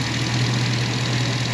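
The LS-swapped engine in a 1955 Chevy truck with Hooker exhaust manifolds idles steadily, a loud, close, even rumble with a constant low hum and no voices.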